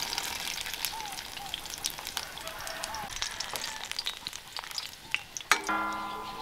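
Onions and garlic fry in a pan while a ranch-style Mexican meal is cooked outdoors in a garden, giving a steady close sizzle and crackle with light spatters, then a brief clatter near the end.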